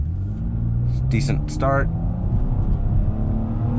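A 2019 Nissan Maxima Platinum pulls hard from a stop, its engine a steady low rumble that swells and holds throughout, with a brief spoken remark from inside the cabin partway through.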